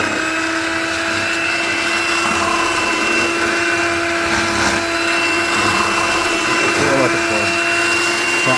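A blender purees hot potato soup, running steadily with a loud, constant whirring drone from start to finish.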